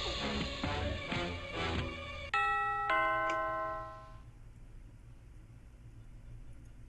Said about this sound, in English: Stop ringing on the damn doorbell every 5 seconds.